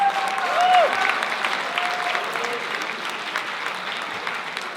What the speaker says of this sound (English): Can we clap for all of them, because some of them are in the house?